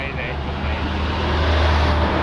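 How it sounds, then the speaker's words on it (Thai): A Honda water pump engine mounted on a homemade rice seeder, running with a steady low drone close by, while someone talks over it. "เครื่องยนต์นี่เป็น เครื่องยนต์ฮอนด้า ครับ เป็นเครื่องยนต์สูบน้ำนี่แหละ"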